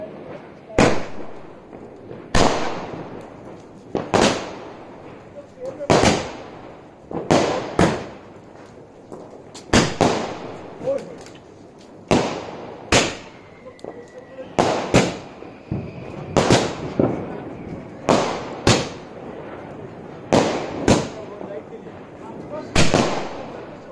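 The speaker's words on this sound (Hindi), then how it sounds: "इसे टेस्ट करते हैं और देखते हैं कैसा है इसका गोल्डन स्काई इफेक्ट चलिए इसे टेस्ट करें" A 16-shell sky shot firework with golden sky effect sends up sixteen sharp cracking bursts at irregular one-to-two-second intervals, each a loud pop with a short fading tail, set against a quiet outdoor background during Diwali.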